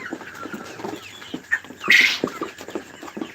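Chickens on a poultry farm give short, close clucks and a brief louder squawk, with scattered shuffling and pecking between the calls.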